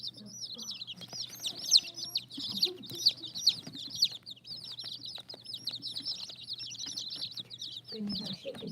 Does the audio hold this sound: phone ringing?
no